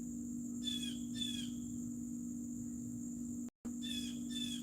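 Blue jay calls ring out in short bursts of repeated sharp whistled notes over a steady low hum, with a pause before a final burst.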